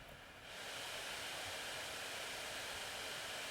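Laptop cooling fans on an MSI Katana GF66 spin up in gaming and performance mode, rising within half a second into a steady, fairly quiet broadband whoosh that holds without change.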